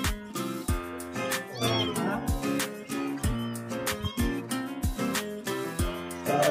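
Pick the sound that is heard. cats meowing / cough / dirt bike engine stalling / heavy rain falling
cats meowing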